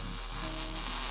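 Continuous crackling, buzzing hiss of a welder laying a filler piece into a 1949 Ford chassis during a BMW chassis swap, steady and close throughout.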